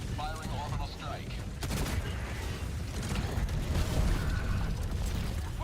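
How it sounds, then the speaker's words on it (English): Orbital strike in a combat video game, a dense roar of blasts and rapid gunfire clatter rolling on continuously, with voices partly audible in the mix. "Firing orbital strike."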